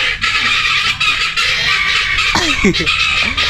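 Harsh, repeated cackling calls of guinea fowl close by, coming in quick overlapping bursts.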